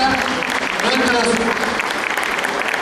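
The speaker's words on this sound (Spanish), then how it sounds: "Brindémosle otro aplauso, ya estamos terminando esta gala folclórica." Audience applause fills the hall at a folk dance gala, a steady dense wash of clapping with voices mixed in throughout.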